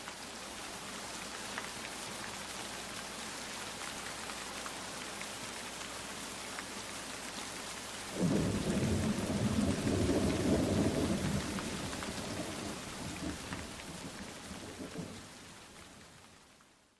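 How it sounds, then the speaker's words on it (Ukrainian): Steady rain recorded outdoors, played back during a children's nature lesson, with a rumble of thunder swelling partway through and fading out; no talking. "Так, це була мелодія дощу."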